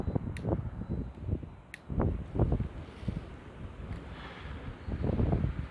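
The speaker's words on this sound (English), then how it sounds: "it's actually pretty windy today" Gusty wind buffets the microphone in low rumbling bursts, rising and falling irregularly with no talking.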